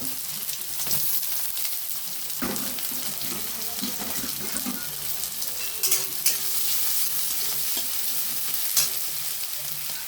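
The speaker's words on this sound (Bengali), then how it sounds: "তেলটা গরম হয়ে গেছে, প্রথমে রসুন কুচি দেবো, তারপর পেঁয়াজ দেবো" Chopped garlic, ginger and onion fry in hot oil with a steady sizzle, while a utensil stirs and scrapes the pan and sharp clinks sound now and then, close up with no talk.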